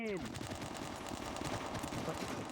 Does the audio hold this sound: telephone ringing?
no